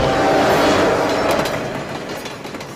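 A freight train runs along the rails with a loud, steady rolling rumble and faint clatter that eases off slightly toward the end.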